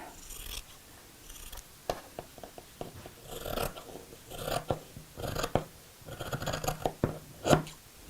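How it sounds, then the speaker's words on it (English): Scissors snip and crunch through thick denim fabric in a series of uneven, close cuts with short pauses between strokes. "Don't you love the sound of scissors crunching through fabric?"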